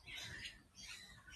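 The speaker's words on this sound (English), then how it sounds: "I'm guessing that he is a kelp gull." A kelp gull at a wildlife park gives two harsh, drawn-out squawks, faint and somewhat distant, with no talk.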